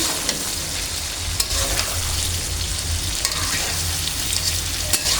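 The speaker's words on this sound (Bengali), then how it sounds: "সবগুলো মশলা দিয়ে ভালো করে নেড়ে নিচ্ছি" Sour-sweet-spicy mango pickle cooks in a pan with spices added and is stirred continuously, making a loud dense sizzle with a low cooking rumble and repeated scraping strokes, no voices.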